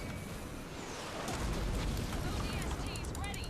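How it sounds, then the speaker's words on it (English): A tank in Halo Wars 2, a strategy game, is blown up by dropped ODST troops: a loud rumbling explosion surges and holds amid battle noise, with crackling bursts, while a voice talks over it. "Let's drop some ODSTs and just blow up this tank."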